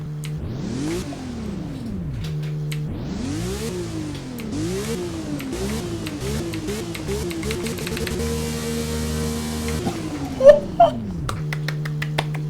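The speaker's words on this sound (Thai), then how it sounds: "ฟังเสียงตอนเหยียบคันเร่งดูนะค รับว่าจะเป็นยังไงนะครับผม" A 2025 Zenvo Aurora Agil engine in Roblox Driving Empire revs repeatedly, pitch sweeping up and falling back in rapid bursts, then holding a steady high drone before a few sharp clicks.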